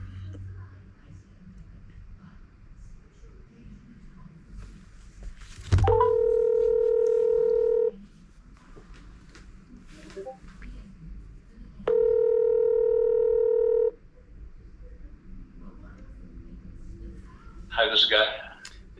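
Steady telephone dial tone in two separate stretches during a call to a realtor about a home listing, clear and loud with a few faint background noises between.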